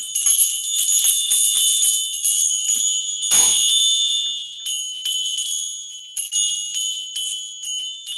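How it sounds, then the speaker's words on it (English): Loud, bright bells ring continuously with a shimmering metallic jingle, sustained for several seconds with only brief dips. "I guess I have to ring the bells"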